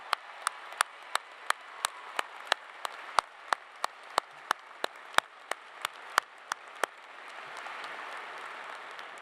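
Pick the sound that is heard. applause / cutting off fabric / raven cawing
applause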